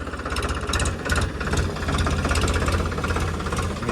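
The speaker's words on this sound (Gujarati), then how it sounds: "કાલે આપણે જે ટ્રેક્ટર આવ્યું હતું પારા બાંધવા, એ મિત્રો આજે પાછું આવી ગયું છે" A tractor engine runs close by in a cotton field where it is forming ridges, throbbing in a steady, rapid knocking rhythm with no voices over it.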